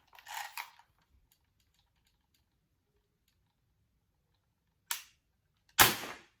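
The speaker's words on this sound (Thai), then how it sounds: "หาที่รองก่อน ยิงใส่ถุงแล้วกันโดนโดนกระจกแตกแน่นี่นะฮะ" An A&K SVD airsoft rifle is fired into a bag indoors. Three sharp, separate shots ring out, each with a brief bright snap, the last one loudest, with quiet pauses between them.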